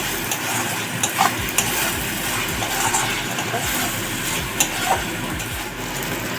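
Hot water goes into a pan of sizzling spice paste for a jackfruit kofta curry, giving a continuous loud sizzle and bubble with scattered stirring clinks and scrapes.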